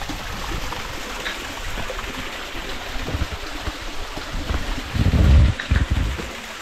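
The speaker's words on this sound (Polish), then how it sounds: "A tu jest ten wodospad." Rushing water from the waterfall in the Barranco del Infierno gorge on Tenerife, a steady broadband hiss with a louder surge of low rumble near the end, heard alone without talk.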